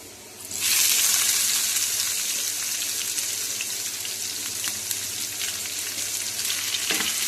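Finely chopped onion with crushed garlic hits hot oil in a pan, bursting into a loud, bright sizzle after a quiet start that then holds steady, with occasional stirring scrapes.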